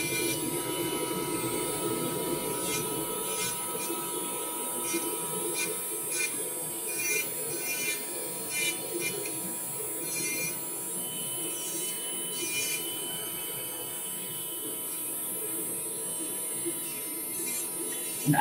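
An electric nail drill with a fine bit files around fingernail cuticles during a nail refill, a continuous high whirring buzz that runs throughout at an even level, with soft clicks and light handling noise.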